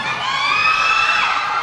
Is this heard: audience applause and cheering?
yes